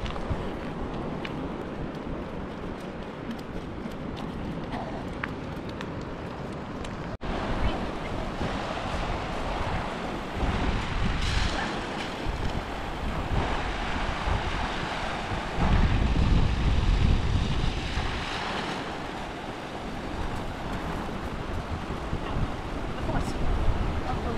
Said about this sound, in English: The water is really forceful, don't you think?